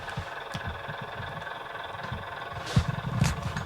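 Bachmann Class 121 model train with a DCC diesel sound decoder idling, a low steady throbbing engine rumble with a soft rhythmic beat and a couple of brief louder pulses near the end.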